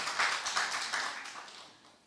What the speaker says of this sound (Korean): 장군이라고 말하는 사람은 스스로 박수 한번 치세요.